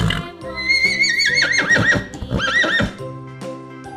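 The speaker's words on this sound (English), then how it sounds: "H for horse" A horse gives a loud, quavering whinny close by, followed by a second shorter neigh, with a few hoof clip-clops underneath and a low steady tone after the calls fade.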